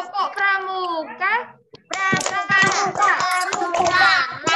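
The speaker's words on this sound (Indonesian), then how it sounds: "Tepuk pramuka." Young first-grade children chant together and clap in a quick, loud scout clapping routine, with rhythmic bursts of hand claps mixed into their voices.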